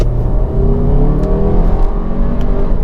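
A 2019 Audi Q3 SUV engine pulls steadily under load in second gear from about 3,000 rpm, a continuous low droning rumble with rising harmonics as it accelerates, loud and close throughout.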